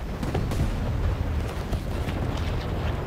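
Tank cannon fire in War Thunder, a heavy booming blast in a tank battle, a loud rumbling low-end boom followed by a long dense roar with scattered sharp reports, no talking.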